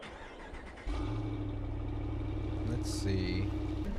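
A truck in Farming Simulator 22 cranks and fires up, then settles into a steady, low, rumbling idle with a brief rev near the end, and a voice talks faintly underneath.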